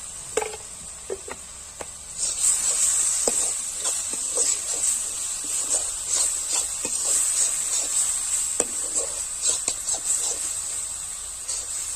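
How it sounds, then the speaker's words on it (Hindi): Fish curry masala with coriander powder frying in a pan for a Chhattisgarhi sour fish dish, a steady sizzle with a bright hiss throughout and scattered scrapes and clinks of stirring, close and loud with no talk. "अब इसे हम 10 मिनट तक भूनेंगे।"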